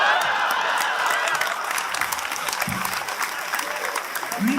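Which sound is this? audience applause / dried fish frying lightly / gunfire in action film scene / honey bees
audience applause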